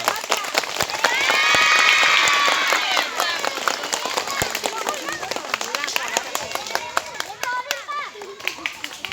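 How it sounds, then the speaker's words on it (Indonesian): An audience at a fire extinguisher safety session claps, the applause swelling loud and dense then thinning into scattered claps, with children's voices and chatter mixed in. "Tepuk tangan."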